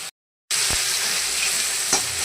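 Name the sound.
spice masala being fried and stirred for fish curry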